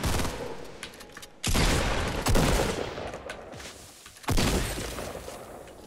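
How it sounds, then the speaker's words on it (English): Fortnite battle royale gunfire comes in loud, crackling bursts of rapid SMG fire, two or three separate volleys with brief pauses between them and no talking over them. "I heard like SMG shots over here."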